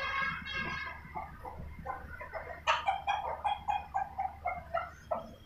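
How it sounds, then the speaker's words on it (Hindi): Chickens, including a white hen, cluck close by in a farmyard setup. Soft calls in the first half give way to a run of louder rhythmic clucks, with a low background hum underneath. "ये जो सी वाइट वाली मुर्गी है"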